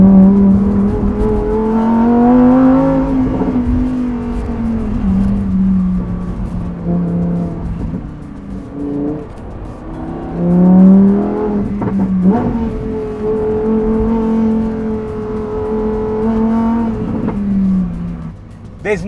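Lamborghini Huracan Tecnica engine revving and accelerating on Italian roads, a loud deep droning roar that climbs and falls through gear changes over about nineteen seconds, heard from inside the car.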